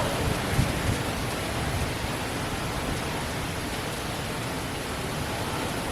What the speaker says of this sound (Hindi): अभी यहाँ बारिश चालू हो गई है,